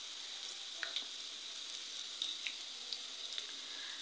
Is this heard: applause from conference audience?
no